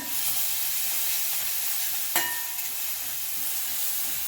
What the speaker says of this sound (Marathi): हे एक मिनिट छान परतून घ्यायचं आहे लसूण आणि हिरवी मिरची छान परतून झालेली आहे